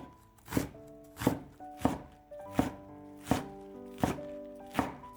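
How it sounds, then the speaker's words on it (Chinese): A kitchen knife slices napa cabbage into thin strips on a board, making about seven crisp, evenly spaced chops at a steady pace, with faint tonal music underneath. "先给它切成细丝，"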